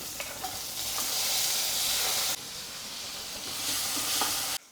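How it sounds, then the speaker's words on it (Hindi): Tomatoes and onions fry with cumin in mustard oil, a bright, close sizzle that swells and dips with stirring, then cuts off abruptly at the end. "अब इन टमाटर प्याज को थोड़ा सा मैं कुक कर लूँगा"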